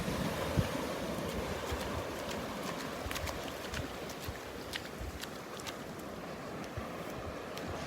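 Gentle surf at a beach in North Naples, Florida, gives a steady broadband wash of waves, mixed with wind buffeting the microphone, with no voices.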